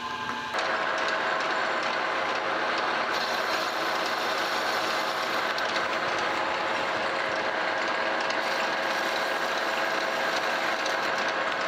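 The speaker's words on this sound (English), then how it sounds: "And again, we'll chamfer for those edges." Metal lathe chamfering the edges of steel change-gear blanks, a steady continuous mechanical whir with fine ratcheting texture running unbroken and fairly loud throughout.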